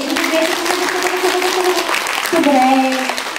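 Children and parents in a concert audience clap together in a practice round of applause, steady and fairly loud, while a voice talks over the clapping.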